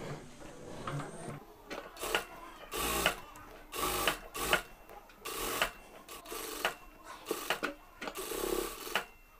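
A sewing machine runs stitches along a kameez neckline in repeated short bursts of rapid mechanical whirring, stopping and restarting with brief pauses between runs.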